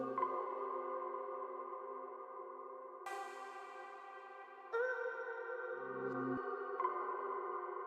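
Synth fills drenched in heavy reverb in an experimental bass track: sustained, ringing tonal layers with shifting pitches and washed-out tails, quiet and continuous with no voices.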